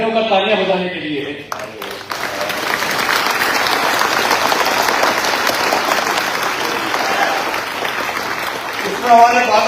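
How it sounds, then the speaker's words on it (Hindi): A crowd at a public community gathering gives a standing ovation, dense sustained clapping for several seconds, loud and even, with voices rising over it near the end. "यह घोषणा खड़े होकर तालियां बजाने के लिए है।"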